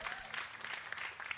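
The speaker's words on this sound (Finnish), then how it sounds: "nyt voitte sitten taputtaa" Audience applause at a concert of a brass ensemble, greeting trombone and trumpet players as they are introduced, a steady dense clatter of many hands clapping close by.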